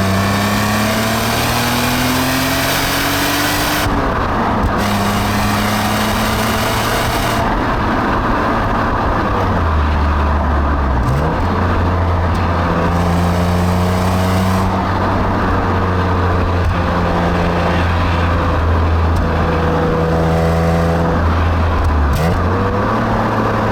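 A 1998 BMW E36 328i Sport engine revs hard and shifts through gears as it drives along a road, pitch climbing and dropping repeatedly, loud and close throughout.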